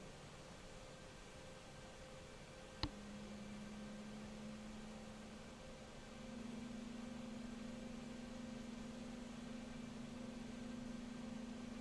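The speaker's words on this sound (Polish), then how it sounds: "Przepustnica na idle i odpala się drugi silnik." An AH-64D Apache helicopter's second engine starts in the DCS World flight simulator: a sharp click, then a steady whine under constant broadband noise that steps up louder partway through and holds.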